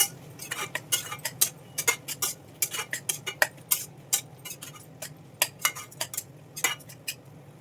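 A utensil stirs yellow cucumber curry in a pan, producing a steady run of light, close scraping clinks in an uneven rhythm over a soft background hum, with no talking.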